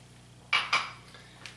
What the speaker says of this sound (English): So we're going to put that in my oven